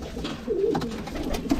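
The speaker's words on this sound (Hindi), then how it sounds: "एक ये है फुलसरा मद्रासी कबूतर फुलसरा कबूतर फुलसरा" Madrasi Phulsara pigeons cooing in a loft, a few soft, low, throaty coos heard close up against quiet background noise.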